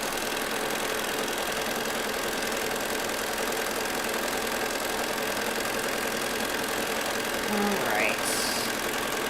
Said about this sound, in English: I am speed sewing a little bit, so if the machine is too loud